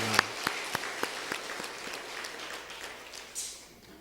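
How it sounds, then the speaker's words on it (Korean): A church congregation claps during a Sunday worship service, a scattering of distinct, separate hand claps at a moderate distance that thin out and fade over a few seconds. "오늘은 박수를 한번 더 쳐야 되겠죠?"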